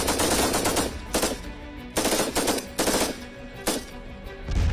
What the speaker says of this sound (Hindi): ताबड़तोड़ गोलियां चल रही हैं, तड़ातड़ फायरिंग हो रही है।